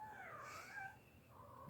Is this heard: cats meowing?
yes